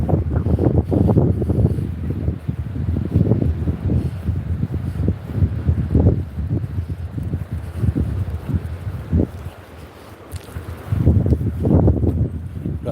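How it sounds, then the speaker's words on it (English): Strong wind buffets the microphone on a seaside promenade, a continuous loud low roar that gusts and eases throughout, briefly dipping before surging again. "At the moment though it's windy."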